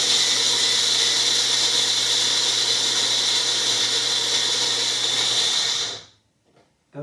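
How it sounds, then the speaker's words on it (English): A blender grinds almonds into almond flour with a loud, steady high whir lasting about six seconds, then cuts off abruptly into near silence. "you just have to simply put it on any kind of grinding system. You can use your blender"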